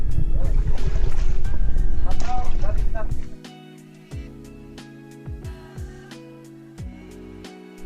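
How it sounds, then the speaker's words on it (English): Lone kayak paddling on a lagoon in Coron, Palawan: heavy wind and water rush at first, then rhythmic paddle splashes and knocks against the hull, close and steady. "It's exhausting to kayak alone."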